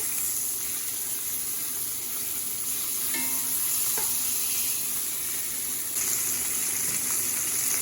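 Food sizzling in a frying pan with melted butter right after being flipped, a steady, fairly loud crackling sizzle with a couple of brief scrapes, no talk.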